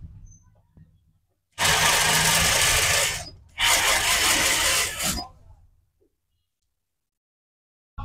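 An electric sewing machine stitches trouser fabric in two loud, steady whirring runs of about a second and a half each, split by a brief pause, with near silence before and after.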